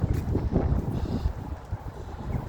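Gusty autumn wind buffets the microphone with a steady low rumble and rushing noise, no voices present.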